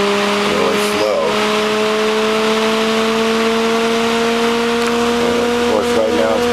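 A Bedini-Cole window motor spins up slowly like a turbine, giving steady rising tonal hums that stack in several bands and run continuously throughout, with faint background noise and brief clicks.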